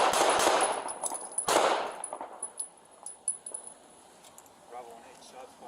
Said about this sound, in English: Bravo 1-8, shots fired